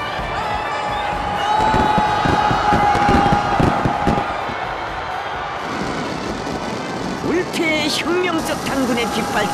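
Crowd in Kim Il Sung Square, Pyongyang, cheering and applauding as military aircraft fly overhead during an air force display, a broad swelling roar with jet rumble beneath and a commentator talking throughout.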